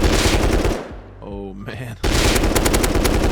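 Bursts of rapid automatic fire from a custom SMG with an extended magazine in the game Rust, two loud sustained volleys separated by a brief gap where a voice speaks.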